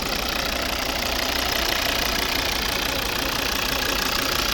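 A 2012 Volvo V40 2.0 D3 diesel engine idles steadily up close, a continuous even rumble with a faint diesel knocking clatter, no voices present.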